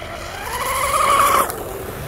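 Oxidean Oxi-digger wooden outrigger RC boat running on a two-blade Octura propeller, with a high, rising motor whine that swells loud and close, then cuts off abruptly.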